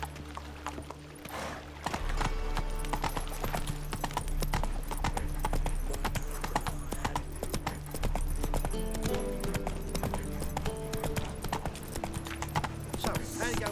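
Roach the horse from The Witcher 3 gallops with steady, rhythmic clip-clop hoofbeats held loud and close for most of the stretch, over a continuous game backdrop of music and ambience.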